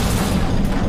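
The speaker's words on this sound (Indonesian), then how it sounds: "Wah, anjir, meledak" An explosion in the God of War 2 video game: a brief, loud, dense booming blast filling the whole moment with crashing noise.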